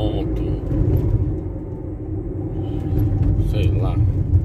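Fiat Fiorino 1.4 running on the road with an odd fault noise, a steady low rumble of engine and road noise throughout, loud and continuous, with a voice talking over it.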